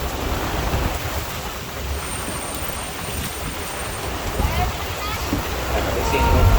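Steady broadband hiss of rain falling on an open safari truck during a thunderstorm on Kilimanjaro Safaris at Disney World, continuous and fairly loud throughout, with low rumbling vehicle noise underneath.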